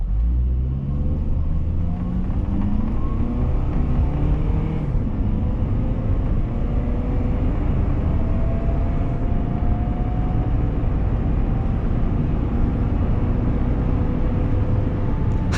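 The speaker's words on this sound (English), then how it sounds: "You could hear the motor, and it did a little like a little hiss every time it shifted gears" A 2004 Honda Element EX AWD with 145,000 miles pulls up through the gears, its engine droning loud and steady from inside the cabin with rising pitch sweeps between shifts.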